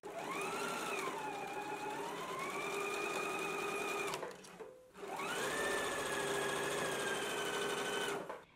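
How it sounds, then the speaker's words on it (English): A sewing machine stitches a placket seam with interfacing in two steady, loud runs, humming evenly for about four seconds, stopping briefly, then running again just as long. "Let's go ahead and stitch it now."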